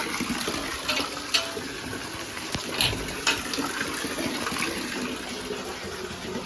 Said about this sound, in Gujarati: વરસાદ જોરદાર પડે જો